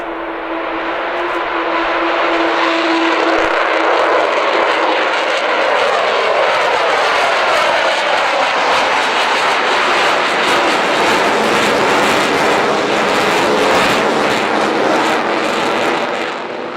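Avro Vulcan bomber XL426 with its jet engines produces a loud, sustained roar and rushing whine that swells and shifts as it passes, steady for the whole stretch, with no talking.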